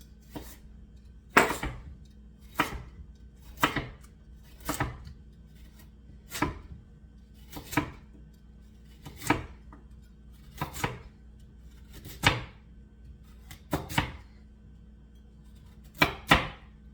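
Knife chopping vegetables on a warped cutting board for beef stew, a series of sharp, separate chops at an uneven pace, each one a crisp thud and click, close and fairly loud with no talking.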